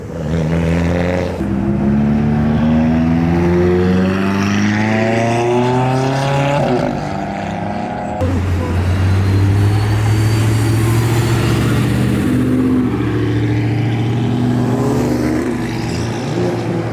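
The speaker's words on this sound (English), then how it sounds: "Pro-charged GTO." A Pro-charged Pontiac GTO muscle car engine revs hard, its loud, deep roar rising and falling in pitch through repeated throttle blips, close and continuous for the whole stretch with no talking.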